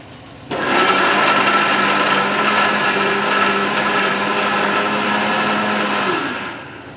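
A kitchen mixer grinder whirs continuously, blending curd, raisins and cashews into a paste, a loud steady motor drone that starts abruptly and winds down after about six seconds, with no talking.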